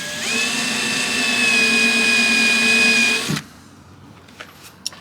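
A power drill bores a 5/16 hole in a Jeep Gladiator while a rear camera washer is being installed. The steady high whine runs for about three seconds, stops abruptly, and is followed by a few faint clicks.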